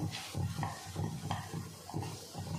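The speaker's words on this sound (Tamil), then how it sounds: "அதுக்கடுத்து பிரியாணி மசாலாவை கலந்துக்கலாம்" Biryani masala is stirred into a pan of cooking tomato thokku, with rhythmic scraping strokes about every half second over a soft sizzle, close and fairly quiet, with no talking.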